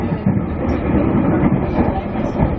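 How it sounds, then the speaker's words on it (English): A passenger train runs along the track on the Brisbane–Tully line in Queensland, producing a loud, steady rumble with rhythmic wheel clatter close by throughout. "Train back there."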